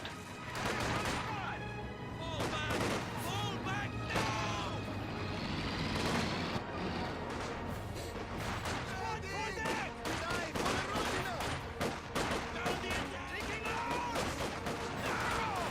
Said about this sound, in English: Good focus firing there, focusing on one squad at a time.